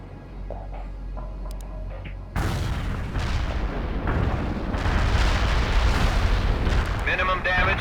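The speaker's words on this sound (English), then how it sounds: "Heavy artillery barrage inbound." Heavy artillery barrage explosions in the real-time strategy game World in Conflict: a quiet stretch gives way to a sudden loud, sustained rumble of overlapping booms that keeps rolling to the end, with faint radio-style voices early on.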